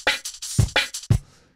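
Drum and bass shaker made from a sampled beer can fizz, several crisp hissing hits in an uneven rhythm with low thuds beneath, close and fairly loud, fading at the end.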